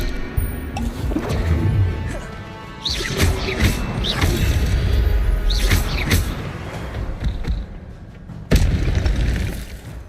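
Incendio fire spell cast in the Hogwarts Legacy video game, a few bursting whooshes and booming impacts among combat sounds, ending with one sharp loud blast.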